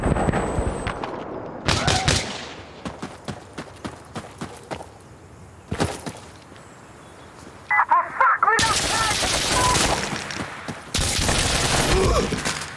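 Rapid bursts of gunfire from a Vector submachine gun in Insurgency Sandstorm, with short crackling volleys early and long sustained loud automatic strings near the end.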